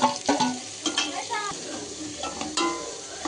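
Sambar shallots and large onions tumble into a hot pan for a Kasimedu-style fish curry, setting off a sizzle with stirring scrapes and a few sharp clatters near the start.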